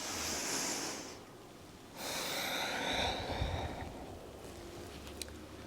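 Slow, deep breathing during a gentle water-element qigong exercise, a soft airy exhale followed by a long inhale, faint and close with a hollow rushing quality and no talking.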